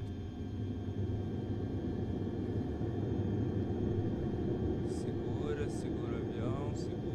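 A light propeller airplane touches down on a runway with flaps fully extended, its engine and wind making a steady, loud cockpit rumble as people talk over it near the end.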